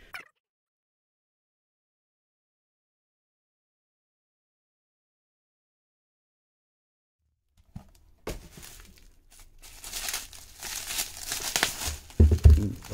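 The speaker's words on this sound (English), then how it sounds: "So let's do a quick unboxing video here." Packaging for a San Martin SN004 watch crinkles and rustles during an unboxing, starting abruptly after a long near-silent stretch and growing busier and louder toward the end.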